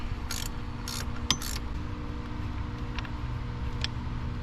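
A hand ratchet loosens a nut on the AC compressor of a 2000 Chevy S10 Xtreme, with a few short clicking bursts and a sharp clunk close by over a steady low hum, no talk.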